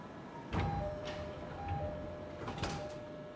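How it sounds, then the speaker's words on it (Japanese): Train doors closing in the Densha de Go railway game on the Yamanashi Line, heard as a couple of sliding thumps with a sustained electronic chime tone between them, fairly close and clear. "6番線ドアが閉まります。"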